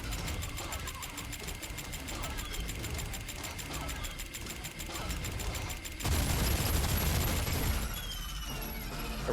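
Rapid automatic gunfire in Ark Survival pours into a boss during a battle, a dense, steady mechanical rattle that keeps going for several seconds before shifting into a louder, rougher burst.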